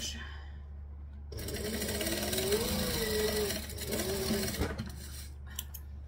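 A sewing machine stitches along the edge of fabric in a steady, close, whirring run that slows and briefly pauses before resuming, then stops with a few faint handling clicks.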